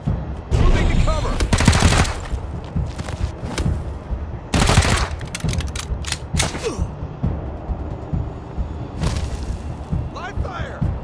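A firefight in the video game Wasteland 3, with loud bursts of gunfire and scattered shots over mechanical clanking and creaks, while voices talk in between.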